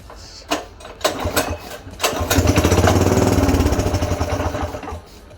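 A mini bike's small engine sputters and revs unevenly while running on choke, rising from a few rough coughs into a sustained, loud, ragged chatter before tapering off.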